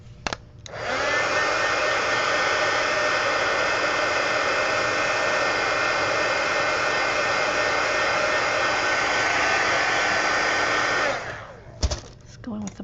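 A heat tool blows steadily for about ten seconds while drying paint on a mixed-media planner insert, a loud, even whirring hiss that starts and stops abruptly, with small handling clicks at either end.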